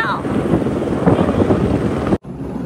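A helicopter flies past in a loud, dense, rumbling wash with heavy wind buffeting, close and steady before cutting off abruptly near the end, while a voice speaks over it.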